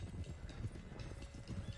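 Horse hooves clip-clop in Red Dead Redemption 2, a quick uneven run of soft thuds at a moderate distance that keeps going throughout.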